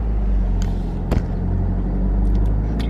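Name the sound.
car engine as a learner gives gas in a manual car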